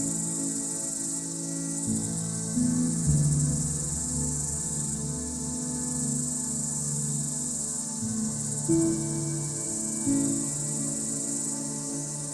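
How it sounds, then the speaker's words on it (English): Steady, loud insect chorus of cicadas singing, a continuous high buzzing drone that holds through the whole stretch with faint tonal shifts underneath and no voices. "Cicadas are fascinating insects known for their loud, distinctive songs and unique life cycles."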